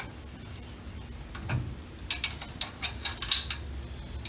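Bolt work on a running board bracket during a 1941–46 Chevy shortbed S10 truck conversion gives a quiet series of quick ratchet clicks in rapid bursts, with a faint metallic knock just before them.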